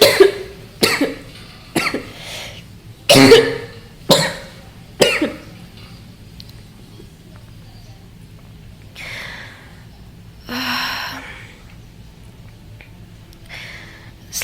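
A person coughs in a series of sharp bursts, about six in quick succession, then quieter breathing and a throat clear follow.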